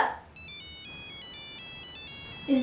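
Mobile phone ringtone: a bright, repeating electronic melody of alternating high tones playing steadily for a couple of seconds, moderately loud, with brief voices at the start and end.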